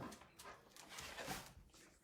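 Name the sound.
dog barking and whimpering indoors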